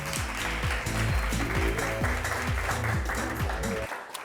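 An audience claps loudly and continuously to welcome a guest named Francia onto a Haitian talk show, with a percussive musical beat running beneath the applause until it cuts off.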